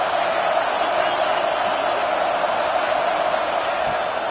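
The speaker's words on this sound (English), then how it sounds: "Big third down in the red zone, and this crowd is getting behind this defense." A football stadium crowd roars in support of the defense on a big third down in the red zone, a dense, sustained wash of cheering with no clear breaks.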